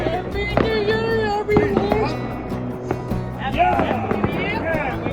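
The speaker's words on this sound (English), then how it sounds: "we've got fireworks" New Year's fireworks over the harbor at Lagos: bangs and crackles go off repeatedly amid lively voices and cheering, with whistling streaks rising through the noisy celebration.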